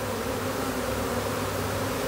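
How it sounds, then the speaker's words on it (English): Honey bee swarm buzzing at a hive in a tree, a dense steady drone of many wings, close and continuous with no pauses. "we've been watching them, you know, fan their wings and march right into that hive"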